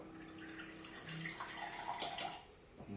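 Filtered water runs steadily from a small electric pump through a tube into a 5-gallon jug, a close, continuous gurgling pour with no talking.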